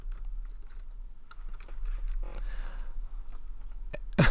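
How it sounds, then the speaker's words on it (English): Fast, irregular clicking of keys on a computer keyboard, close and fairly quiet, with a low hum underneath. "And finish typing."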